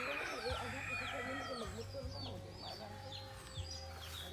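Free-roaming chickens in a rural farmyard in the Cebu countryside, Dumanjug, cluck and call repeatedly over a steady background hum, with bird chirps mixed in and a faint voice nearby.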